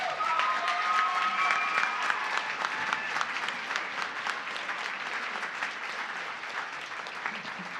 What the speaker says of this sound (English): let's give all of these presenters a round of applause